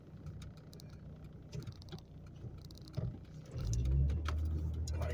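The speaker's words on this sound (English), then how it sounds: "If this car would speed up" Car on the road ahead heard from a following vehicle, a steady low engine and road rumble that swells louder in the last second or two, with no talk.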